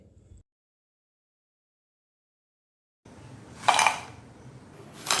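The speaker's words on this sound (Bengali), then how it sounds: "সবগুলো নাস্তা একই রকম করে ভেজে নিয়ে একটা প্লেটে সার্ভ করে নিচ্ছি" Fried snacks made from semolina and milk powder are set onto a plate after a long silence, with close clinks and clatter of crockery rising near the end.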